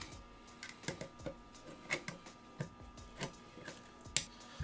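Small metallic clicks and ticks while a Magpul QD mount is tightened down, faint and close, coming in an irregular series of about a dozen short taps with quiet gaps between them.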